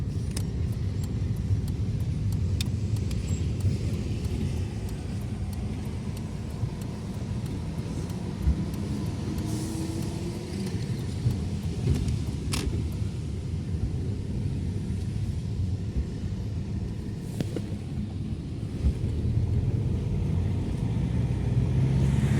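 Steady low engine rumble from a car in motion as it goes around a roundabout and turns into a parking lot, continuous and fairly loud throughout with no talking.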